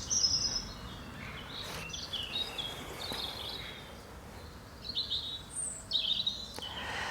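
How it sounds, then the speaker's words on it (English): Birds sing and chirp from a tree overhead outdoors, soft and somewhat distant, with scattered high calls over a faint insect-like hiss and no talking. "How lovely to not only hear the birds singing like we did the other week"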